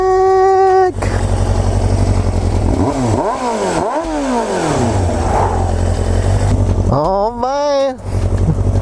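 A Suzuki Bandit motorcycle revs hard while riding, its engine climbing and dropping in rapid pitch sweeps over a loud, steady drone, with a voice shouting briefly over it.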